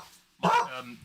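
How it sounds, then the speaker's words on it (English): A dog indoors lets out a single sharp bark that trails into a short whine, loud against an otherwise quiet room. "Sorry about the dog barking."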